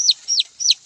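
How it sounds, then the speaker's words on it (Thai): A chicken used as bait in a trap gives three quick, high, thin chirps spaced evenly over about one second, close and fairly loud against silence. "เอาไก่หน่อยล่อฝังฟอดเข้ามาเด้"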